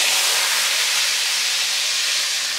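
Red chili tempering, hot oil with chilies, poured into cooked chana dal, giving a loud, steady broadband sizzle that hisses continuously and fades only slightly toward the end.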